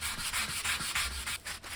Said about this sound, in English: When sanding the primer it will sound rough in the areas that need more sanding